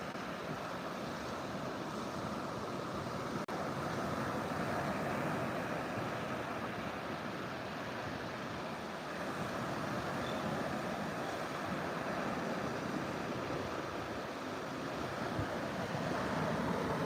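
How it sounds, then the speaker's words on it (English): Ocean waves crash steadily on the shore at St. Pete Beach, Florida, a continuous broad surf wash with some wind buffeting the microphone and no voices. "I'm going to let you watch the waves crash on the shore for that"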